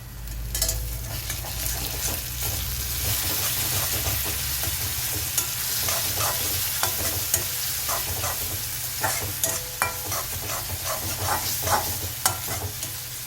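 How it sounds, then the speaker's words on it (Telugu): Tomato pieces sizzle and simmer in a hot pan while being stirred, giving a steady close frying hiss with scattered crackles and occasional spoon scrapes, with no talking. "ఈ టమాటా ముక్కల్ని బాగా ఉడకనివ్వాలి."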